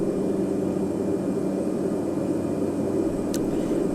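A turboprop aircraft engine runs at takeoff power as the plane begins its takeoff roll. The drone is loud and steady, filling the whole clip with no pauses, and one brief high chirp cuts through near the end.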